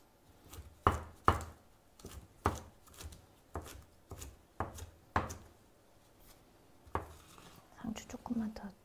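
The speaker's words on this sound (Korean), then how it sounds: "상추 조금만 더 이만큼 썰고." A knife chops lettuce on a cutting board in about a dozen sharp, evenly spaced strokes, close and distinct, with soft kitchen handling sounds toward the end.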